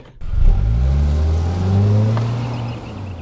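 A 2024 Mazda CX-5 Turbo pulls away and accelerates on a road, its engine note close and loud, rising in pitch through a gear, dipping briefly, then climbing again, with no talking.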